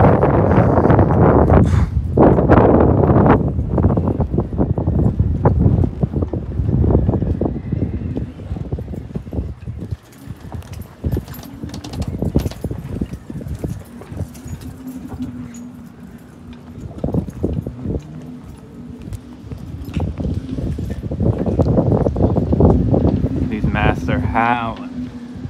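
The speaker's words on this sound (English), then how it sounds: "Is the wind just terrible?" Strong, gusty wind buffets the microphone on a marina dock in San Diego, a loud broadband roar that swells and eases over the whole stretch, with boat and rigging noises and someone talking intermittently beneath it.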